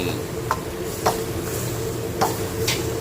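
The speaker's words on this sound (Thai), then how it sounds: "ในนี่พี่น้องกำลังผัดเครื่อง" A seasoning paste stir-fried in a pan for battered fried fish, a steady low sizzle broken by a few soft spatula scrapes and taps at irregular intervals, close and even.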